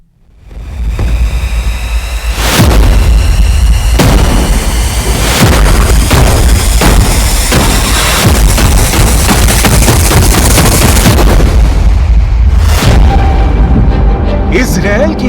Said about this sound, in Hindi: इजरायल की राजधानी तेल अवीव में फटा बम।